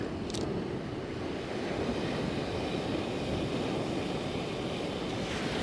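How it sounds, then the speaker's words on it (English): A Jetboil camping stove burner running to boil water on a beach, a steady roaring hiss that continues unbroken and fairly close, with no talk. "I've got my jet boil set up. I'm going to have some hot food today. I'm going to boil some water."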